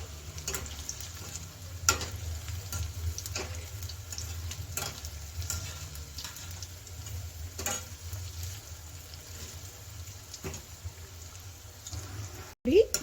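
Potato and wheat flour snack dough deep-frying in oil over a medium flame, a soft, fairly quiet bubbling crackle with faint periodic ticks and a sharp knock near the end.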